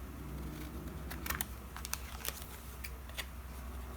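Scissors snip the corners off a wide paper tag for a junk journal, making a few quick, crisp close-up cuts in small clusters against a quiet room.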